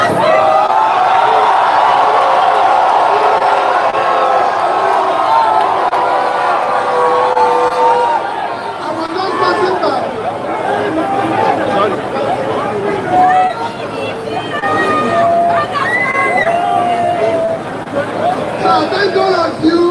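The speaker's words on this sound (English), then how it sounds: "I never expected this type of crowd." Large crowd at a political campaign rally in Abuja for Peter Obi, a loud, steady hubbub of many voices with shouts and scattered cheers, dense and close throughout with no single speaker standing out.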